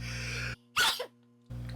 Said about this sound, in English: It will make you sneeze.